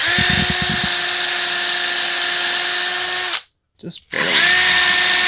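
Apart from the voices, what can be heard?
power drill drilling holes in bass guitar body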